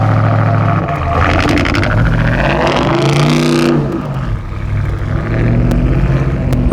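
An 850 hp TRX pickup truck stuck in snow, its engine roaring loud and close as it revs hard while the tires spin, the pitch rising and falling through repeated surges with no talking over it.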